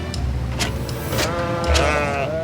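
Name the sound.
sheep bleating on a dike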